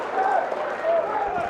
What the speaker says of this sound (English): you know a grappling exchange is good when an MMA crowd pops for it